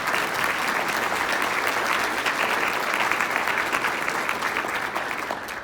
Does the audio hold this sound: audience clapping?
yes